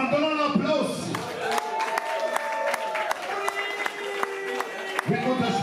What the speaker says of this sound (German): Nochmal einen Donner Applaus!